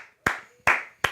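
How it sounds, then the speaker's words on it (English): Three sharp hand claps, spaced evenly and close by, each a crisp slap with nothing else around them. "Clap it up to Michigan."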